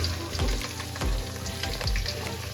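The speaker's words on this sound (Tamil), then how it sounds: "வெங்காயம் போடுறோம்." Onions sizzle in a hot pan for Chettinad chicken, giving a steady frying hiss with a few low thumps from stirring, at moderate level and close by with no talking.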